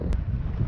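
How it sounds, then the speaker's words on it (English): Steady outdoor wind buffets the microphone with a continuous low rumble during a chilly ride, with one brief hissy gust near the start and no talking. "Now it's still windy."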